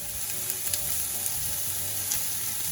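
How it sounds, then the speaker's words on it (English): Strong onions sautéing in a pan while vegetable soup is prepared for pressure canning, a soft continuous sizzle with a few faint pops and stirring clicks, no talking. "Okay, I put our onions in. I'm going to saute them off just ever so quickly."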